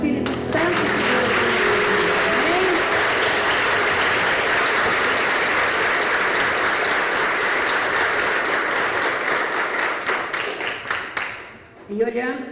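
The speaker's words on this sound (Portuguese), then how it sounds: "E aplaude o Espírito Santo de Deus." A prayer group congregation applauds in a hall, a dense sustained wash of many hands clapping that holds for several seconds before thinning into scattered claps and fading.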